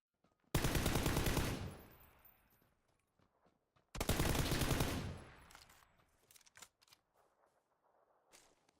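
Gunfire in PlayerUnknown's Battlegrounds: two long, rapid automatic bursts a few seconds apart, followed by scattered single shots and clicks, all heard at a moderate distance.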